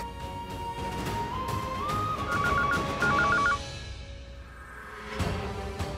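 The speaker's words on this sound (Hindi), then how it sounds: "लैंडलाइन में फोन करती।" A landline telephone being dialed, a short series of clear electronic key tones heard over loud dramatic background music.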